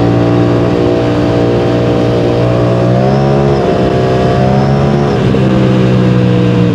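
An Aprilia RS457 motorcycle engine hums loud and steady at close range, then revs up and eases back twice, its exhaust note rising and falling in pitch.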